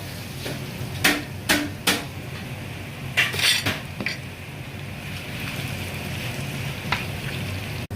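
Curry leaves and asafoetida sizzle in hot oil as tempering for palak dal, a steady faint crackle broken by several sharp metallic clinks of a spoon against the pan.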